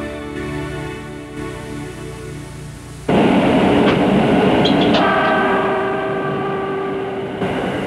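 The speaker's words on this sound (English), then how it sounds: "The city center and the new towns are conveniently linked by the municipal subway system." A Kobe municipal subway train runs past, quiet and distant at first, then suddenly loud and close, with a steady rumble, rail clatter and brief high tonal squeals as it keeps going.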